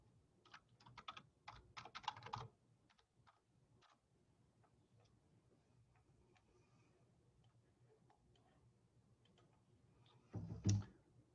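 Computer keyboard typing in a quiet room, a quick flurry of keystrokes up front, then scattered faint taps, and a brief louder burst of clicks near the end.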